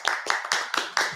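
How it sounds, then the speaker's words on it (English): A few people clap in a slow, even rhythm, five distinct nearby hand claps in a little over a second, with nothing else heard. "Clap it up for Liam, everybody."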